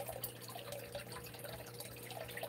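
Water pours steadily into a small aquarium for baby puffer fish, a continuous soft splashing trickle that is quiet and close, with no talking.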